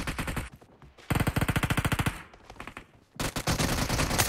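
Automatic gunfire in the mobile battle game PUBG Mobile, rapid rhythmic bursts of shots in three distinct strings separated by brief lulls, close and punchy, with no talk.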